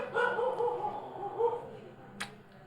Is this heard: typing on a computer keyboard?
no